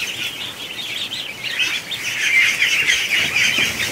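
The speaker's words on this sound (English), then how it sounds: "Okay, so we got a bunch of wet ducks over there." Newly hatched ducklings, wet from the egg, calling indoors, a dense chorus of high thin peeps that swells louder toward the end, close and continuous.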